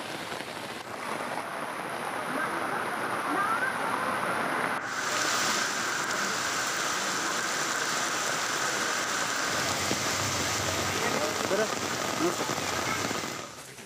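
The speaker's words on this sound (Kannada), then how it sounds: "ಹಾಸನದಲ್ಲಿ ಬಿಟ್ಟು ಬಿಡದೆ ಸುರಿತಾ ಇರುವ ಮಳೆ" Heavy continuous rain falls in the Malnad region of Karnataka, a dense steady roar of drops on surfaces that holds loud and unbroken throughout.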